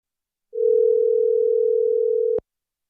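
A steady telephone dial tone holds unbroken for nearly two seconds, loud and close, then cuts off abruptly with a sharp click at the end; no voices.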